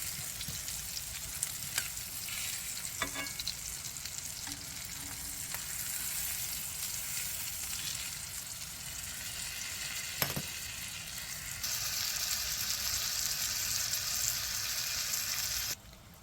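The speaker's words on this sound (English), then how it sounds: "So you want to cook your cutlets until they're 165 internal temperature." Chicken cutlets fry in a pan of olive oil and salted butter, giving a steady, close, fairly loud sizzle with faint crackles and brief stirring clinks throughout, and no talking.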